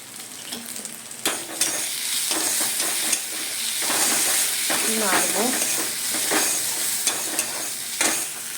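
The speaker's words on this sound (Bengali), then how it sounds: "হলুদ, জিরের গুঁড়ো, এই জিরের গুঁড়ো একটু নাড়বো।" Turmeric and cumin powder are stirred in a hot frying pan, with a loud, close sizzle and hiss, repeated scraping strokes of the spatula, and a brief tonal squeak midway.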